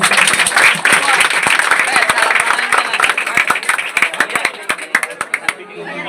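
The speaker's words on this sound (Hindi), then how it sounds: "तो सर जी के लिए जोरदार तालियां।" Loud applause from an audience for a teacher at a school board office gathering celebrating class 10 and 12 toppers: dense, sustained clapping that thins into scattered individual claps near the end, with voices mixed in.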